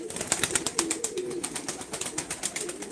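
Pigeons coo in a steady, overlapping chorus nearby, soft low calls repeating in quick succession with faint wing flutters among them and no talk.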